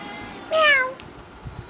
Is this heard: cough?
no